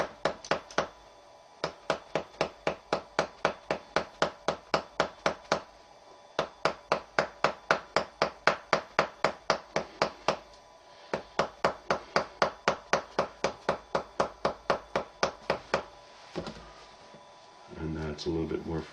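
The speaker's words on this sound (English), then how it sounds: "is to use the hammer and dowel, and I'm placing the dowel at the base of the cuneiforms." A hammer strikes a wooden dowel placed against the base of the cuneiform and metatarsal bones of a foot during manual treatment, giving long steady runs of rapid, evenly spaced taps with brief pauses and a voice talking over them.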